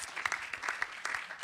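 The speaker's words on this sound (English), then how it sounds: "give her a round of applause" Audience applause for a speaker at an island youth climate event, a brief, fairly quiet burst of clapping from a modest crowd, with irregular claps rising and falling and no voices over it.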